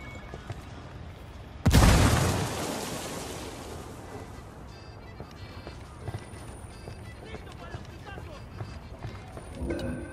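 A frag grenade detonates in Tom Clancy's Ghost Recon Wildlands, a single loud, close blast with a rumbling tail that fades over a couple of seconds, surrounded by game ambience and voices.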